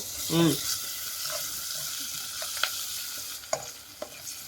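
Eggplant and green chili curry being stirred in a hot pan, with a steady frying sizzle and a few soft scrapes and clinks of the spoon against the metal, close and alone.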